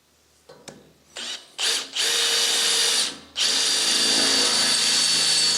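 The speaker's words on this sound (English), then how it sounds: "So I'm going to put some bolts in, for now at least." A handheld power tool drives bolts into a rusty vehicle chassis, starting with a few short whirring bursts, then two longer sustained runs separated by a brief pause; loud and close with no talk.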